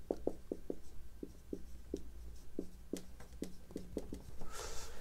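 An equation is handwritten on a board or paper: steady, rhythmic scratching strokes and taps, close and fairly faint, continuing for several seconds with no talking.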